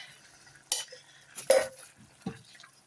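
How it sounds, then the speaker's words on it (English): Taco soup with canned chopped tomatoes stirred in a pot, a few separate scraping and clinking strokes of a spoon against the pot, close and quiet, with no voices. "Give it a little mix round."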